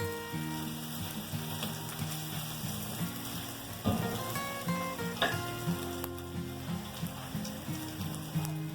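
Garlic, ginger and pepper sizzle steadily in oil in a pot while shrimp and pak choy rice is being cooked. The frying hiss runs continuously under a bed of background music, with occasional metallic clinks.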